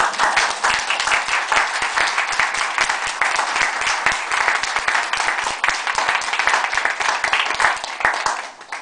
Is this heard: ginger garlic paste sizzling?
no